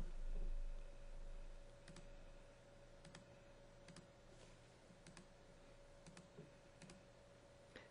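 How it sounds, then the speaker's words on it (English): Computer keyboard keys clunking during cross stitch digitizing in Bernina software, scattered sharp clicks in small clusters over a quiet background hum, faint and close. "Turn the volume down on the keyboard so you don't have to hear that clunking."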